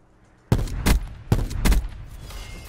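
An S6 Stingray burst rifle in a shooter, fired in two separate close, loud bursts of a few rapid cracks each, with brief echoing tails, after a moment of near silence.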